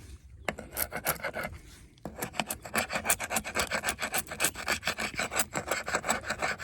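Rhythmic rasping scrapes from taking flaking paint off a sailboat hull, a short pause and then a steady run of fast back-and-forth strokes, close and fairly loud, with no talk.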